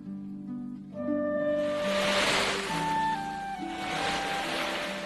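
Ocean waves wash onto a dirty, litter-strewn beach, surging in two broad swells over a steady background of sustained musical tones.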